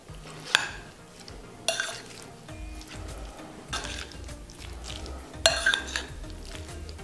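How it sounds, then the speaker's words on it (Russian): A spoon stirs a meat salad dressed with mayonnaise in a bowl, making soft scraping sounds with a few louder clinks against the side, at close range and with no talk. "Все хорошенечко это перемешиваем."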